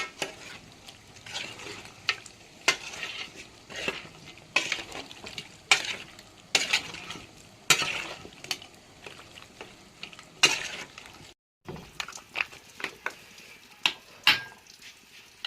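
A spoon scrapes and stirs bone curry into cooked tapioca in a pot, making repeated rhythmic knocks and thick, wet mixing sounds that come close and clear with a brief pause near the end.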